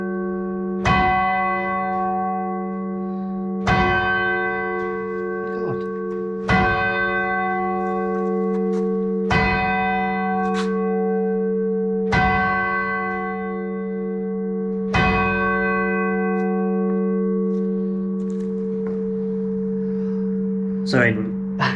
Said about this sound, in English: Now it's an electric, like an electromagnet throws the hammer towards the bell.